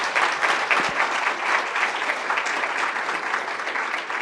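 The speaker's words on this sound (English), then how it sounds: "Let's have a round of applause for Sam and David and their contribution." Steady applause from an audience at a live launch event for GATK4 genomics software, continuous dense clapping filling the whole stretch without speech.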